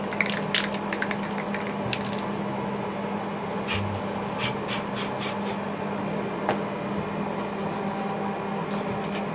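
Rattling, clicking shake of a spray paint can in bursts, close by over a constant background hum.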